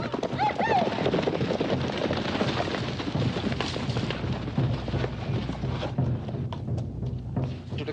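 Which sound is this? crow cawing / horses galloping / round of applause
horses galloping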